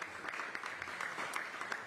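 Audience applause at a New York City press event honoring the mayor and governor, a steady dense patter of many hands, moderately distant and fairly quiet throughout.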